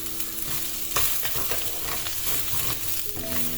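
Rice grains frying in a hot pan as they are stirred, a close, continuous sizzle with scraping stirring strokes and no voices.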